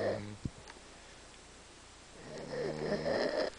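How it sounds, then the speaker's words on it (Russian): Snoring inside a tent, a short snort at the start, then a lull before a long, rough, rattling snore builds up close by. "тут как они храпят"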